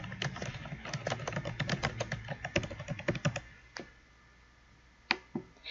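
Quick, steady keystrokes rattle on a computer keyboard, close and clear as a shape title is entered, then thin out to a few isolated clicks with quiet between them.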